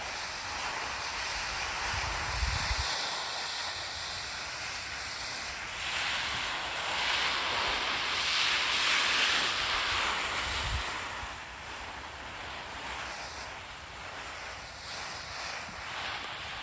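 A steady hiss of water spraying from a garden hose, continuous and gently swelling and easing, with no one talking.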